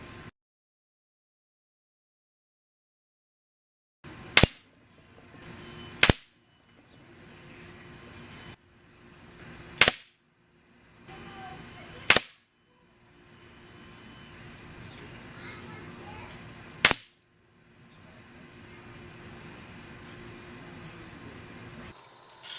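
Five sharp, loud air rifle shots from a Crosman 760 fired at backyard targets about 24 yards away, irregularly spaced over a quiet outdoor background with low hum between reports.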